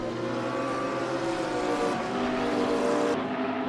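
A GT3 race car in a sim racing game at Zandvoort spins out, its engine droning steadily and close throughout with a shifting pitch and a hiss of tire scrub, no voices over it.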